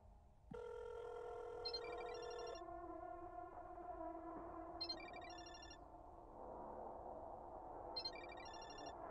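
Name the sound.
phone ringing, from a video game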